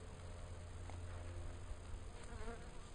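Honey bees in an open Technoset hive, buzzing as a dense, continuous hum with a few individual bees droning past close by, at low overall level.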